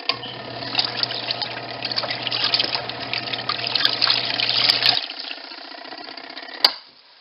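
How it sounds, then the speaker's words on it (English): Water swishes and splashes inside a washing machine during its rinse cycle under a low motor hum, then the hum stops and the sloshing carries on more quietly before a short clunk near the end. "My rinse cycle is almost done."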